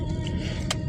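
Inside a van driving toward an airport, a low road rumble and engine hum fill the cabin steadily, with a brief brighter noise burst partway through.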